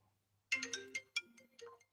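A phone ringtone plays up close, a bright electronic melody of several quick tones after a short quiet start, with no talking.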